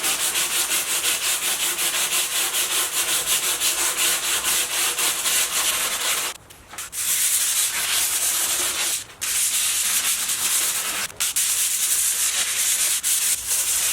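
Hand sanding an old wooden vanity: a steady, loud, close scratchy rubbing of sandpaper on wood in continuous rapid strokes, broken by two or three brief pauses.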